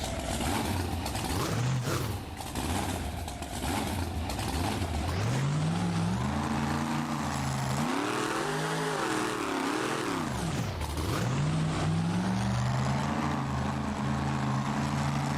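Monster truck engines in the BeamNG driving game drone loudly and continuously, revving up and down in sweeping pitch swells over about fifteen seconds with no talk.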